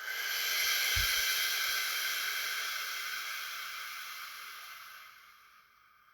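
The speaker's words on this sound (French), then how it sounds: "Puis on expire." A long, slow exhaled breath during a guided meditation, close and airy, swelling early then fading gradually over several seconds, with a soft thump near the start.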